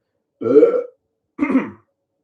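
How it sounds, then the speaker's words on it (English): Two distinct, loud, close burps, each under half a second, separated by a brief pause in an otherwise silent room. "I have to burp"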